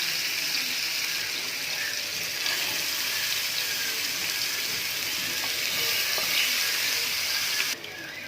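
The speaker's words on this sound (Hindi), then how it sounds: "तो चिकन के सारे पीसेस मैंने तवे पे रख दिए है।" Tandoori chicken pieces fry on a tawa over a low flame, giving a steady, even sizzle with a soft crackle that holds close and constant throughout, with no voices present.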